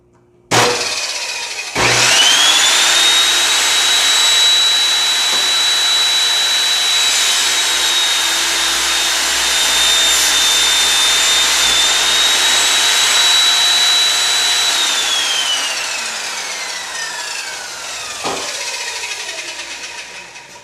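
A power saw spins up with a sharp start, then cuts through a 2x4 wooden stud in one long, loud, sustained whine before winding down and stopping, with a final knock near the end.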